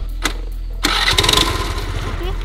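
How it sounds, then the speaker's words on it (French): A scooter engine starts after a couple of short cranking bursts, then catches and runs at a close, steady idle rumble. "Parfait, et ben on récupère un scooter."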